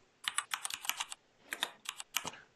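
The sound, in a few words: typing on a computer keyboard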